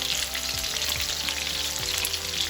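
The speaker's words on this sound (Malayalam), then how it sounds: "അടുത്ത ബാക്കി നമുക്ക് ഫ്രൈ ചെയ്ത് മാറ്റാം" Chicken pieces for chilli chicken fry in hot oil with a steady, dense sizzle and crackle, close and continuous, with a few soft stirring knocks and no voices.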